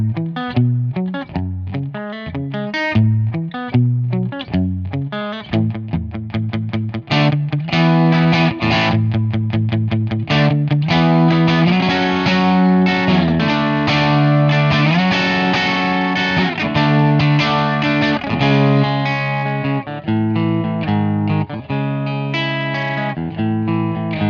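A Telecaster-style electric guitar plays chords and riffs, starting fairly clean and moving into a gritty, driven crunch tone, loud and continuous.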